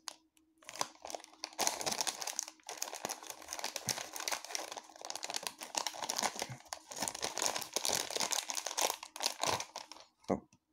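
Clear plastic packaging from a Mickey Mouse toy egg crinkles and crumples up close for several seconds, a continuous rustling with brief pauses and no talking.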